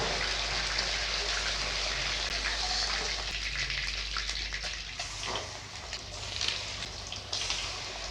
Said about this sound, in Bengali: তেলে গরম হয়ে গেছে মাছগুলো আমি ছেড়ে দিচ্ছি